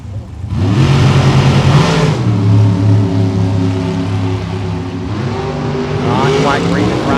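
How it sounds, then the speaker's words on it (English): A drag race car accelerates hard down the strip, its engine note climbing in harmonic sweeps, loud and close, with a second rising engine pass near the end and a voice speaking over it. "Cool looking race car from Benton, Louisiana."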